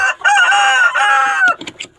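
A rooster crows loudly nearby in one long, drawn-out call, followed by a few short clucks from chickens.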